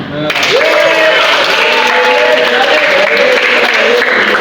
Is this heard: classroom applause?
yes